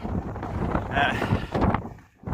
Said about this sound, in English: As you can hear, it's very blowy and windy.